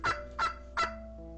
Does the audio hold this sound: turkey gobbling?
yes